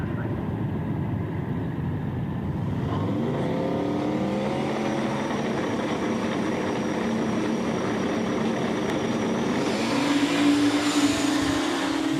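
Ford Mustang Mach 1 with a modular engine launching at full throttle at a drag strip street race, a loud rising engine roar climbing through revs over the whole stretch, then a higher shifting blast near the end.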